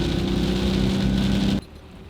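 Rain drums on a van in Costa Rica during the rainy season, a steady close patter mixed with a low engine hum that ends abruptly, leaving a quieter wash of rain.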